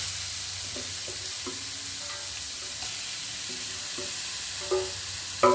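Mustard seeds frying in hot oil, a steady sizzle with scattered sharp pops and crackles that grow louder toward the end, no voices.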